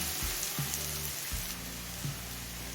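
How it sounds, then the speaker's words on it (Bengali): Onion fries in a pan with a dense, steady sizzling hiss, close and continuous, while a low tonal hum shifts in the background and no one speaks. "পেঁয়াজটা মিনিট দু তিন সময় নিয়ে হালকা লাল করে ভেজে নিয়েছি"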